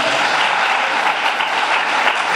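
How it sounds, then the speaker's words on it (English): A church congregation claps steadily at a thanksgiving service, a dense, continuous wash of applause from many hands that stays loud and even throughout. "Put your hands together."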